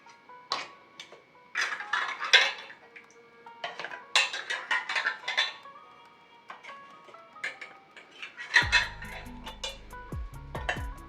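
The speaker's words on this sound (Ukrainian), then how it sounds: "Тепер я накриваю кришками. Кришки я простерилізувала заздалегідь." Glass jars of Nizhyn-style cucumber salad being covered with sterilized metal lids, a string of bright clinks and taps of metal against glass in an irregular rhythm, close and clear, followed by a heavier clatter near the end.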